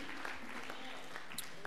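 A church congregation claps in praise during a Sunday service, a dense, steady patter of many hands filling the room, with a voice speaking faintly beneath it.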